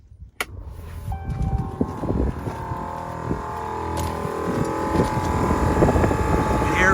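An air compressor motor for a train horn on a 2016 Ram 2500 starts with a thump and runs continuously, a loud rumbling mechanical drone with a rising whine building steadily.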